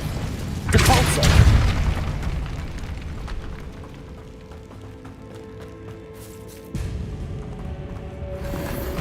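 Booming Depulso force-push spell blast in Hogwarts Legacy, a loud burst near the start that rumbles and decays, followed by a quieter game ambience and a second thud later, with voices speaking.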